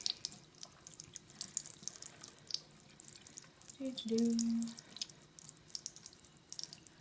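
Tap water runs briefly into a sink while a makeup brush is rinsed under it after being washed with a solid soap bar, a short close burst about a second long amid quiet room sound and faint drips.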